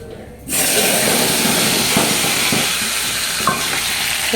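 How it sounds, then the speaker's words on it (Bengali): Spice paste hits hot oil tempered with black cumin and dry red chili, bursting into a loud, sudden, sustained sizzle after a brief quiet moment, close and steady to the end. "কালো জিরে আর শুকনো লঙ্কা ফোড়ন দিলাম তো বাটাটা দেবো এবার"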